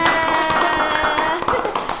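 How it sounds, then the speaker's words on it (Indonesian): A small studio audience claps briefly in a school radio podcast studio, with dense, close hand claps blending with a tonal voice or music bed for about two seconds. "Boleh tepuk tangannya."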